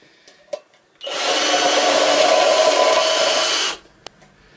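A power drill bores holes around the body of a homemade pyrolysis stove, one loud steady whir lasting about three seconds with brief clicks and knocks before and after.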